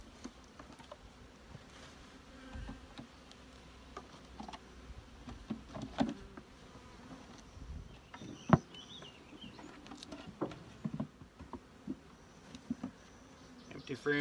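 Honey bees hum and buzz close by around a nucleus hive in fluctuating waves, with scattered knocks, taps and faint background sounds around them.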